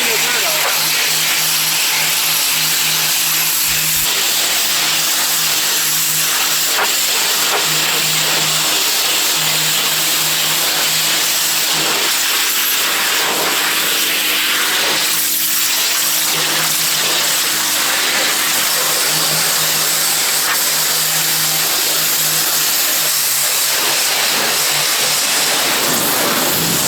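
A pressure washer cleans the outside of a salvaged mobile home with a continuous steady engine drone and hissing spray, loud and close for the whole stretch, while people talk over it.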